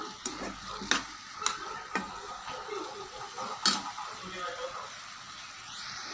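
Eggplant sautéing in a pan for radish chutney, a soft, steady sizzle broken by sharp scrapes and clinks of a utensil stirring against the pan, fairly close.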